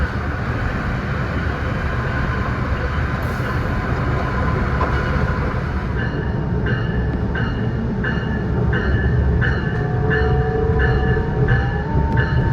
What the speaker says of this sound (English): Wire train.